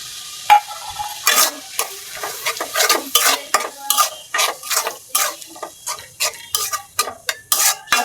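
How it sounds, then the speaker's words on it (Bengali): A ginger, garlic and onion paste fries in a pot for beef curry, with a rhythmic series of loud scraping stirs over a steady sizzle, close and without talk. "এনে আদা রসুন পেঁয়াজ বাটা একসাথে দিয়ে দিলাম"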